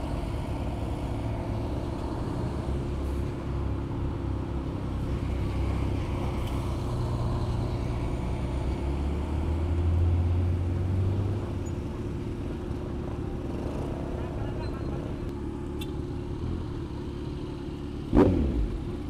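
Dump trucks pass along a road near a construction site, heard from a motorcycle as a continuous low engine rumble with a steady drone and a brief sharp knock near the end.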